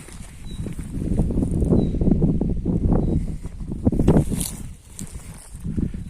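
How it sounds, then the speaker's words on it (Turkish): Gusty wind buffets the microphone outdoors in uneven rushes, rising and falling over several seconds with no one speaking. "biraz da rüzgar var. Rüzgar çıkıyor."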